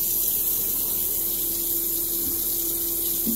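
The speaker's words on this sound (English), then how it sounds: "Rinse the razor out" A razor is rinsed under a steady stream of running tap water, a continuous close splashing hiss lasting throughout with no talk.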